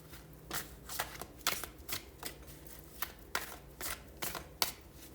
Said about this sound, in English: let's pull some tarot to clarify this information